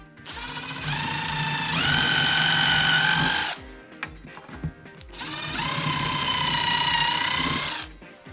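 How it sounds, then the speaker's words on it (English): A small drill bit pre-drills holes, its motor whining in two sustained bursts of about three seconds each, the pitch climbing as it spins up, with a short pause between. "we'll go ahead and take a small drill bit and pre-drill"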